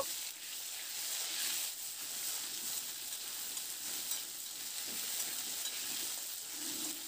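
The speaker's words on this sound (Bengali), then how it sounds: "এবার আলুগুলোকে দিয়ে মিনিট 2-3 জন্য প্রথমে একটু ভেজে নেব।" Cut potatoes fry in a pan with a steady, even sizzle that holds at a moderate level for the whole stretch. Faint stirring comes now and then beneath it, and no one talks.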